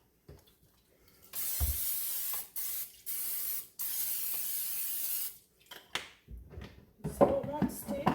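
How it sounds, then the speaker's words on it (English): Cooking spray hisses onto a baking pan before a hashbrown casserole mixture goes in, in several close, loud bursts of steady spraying with short pauses between, and a few soft kitchen clatters at the end. "Spray my pan."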